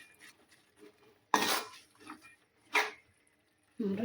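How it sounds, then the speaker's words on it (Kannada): Horse gram palya with chilli powder is mixed in a pan, giving sparse, close scrapes and a few sharp metallic clanks of the spoon against the pan between quiet gaps. "ಈಗ ಚೆಂದಾಗಿ ಮಿಕ್ಸ್ ಮಾಡ್ಕೊತಾರೆ."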